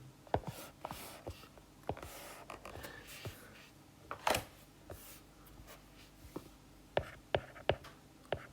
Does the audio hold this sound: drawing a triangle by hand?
yes